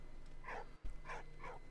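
A dog barks a few short, faint yelps with a brief gap between them, in the World War I video game Valiant Hearts.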